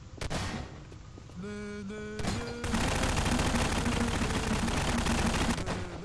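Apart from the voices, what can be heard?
gunfire in video game Prop Hunt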